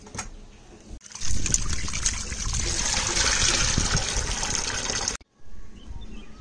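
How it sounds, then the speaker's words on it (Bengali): Tap water runs steadily over freshly cut hilsa fish pieces being rinsed in a kitchen, a close, continuous trickle and splash lasting several seconds before cutting off abruptly. "হয়ে গেছে মাছ কাটা, তো বেশি ধোবো না, হালকা করে আরেকটু ধুয়ে"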